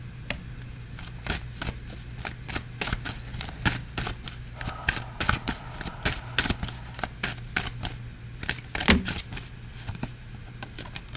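Oracle cards being shuffled quickly and repeatedly, a dense run of crisp riffling clicks and flutters lasting several seconds over a faint low hum.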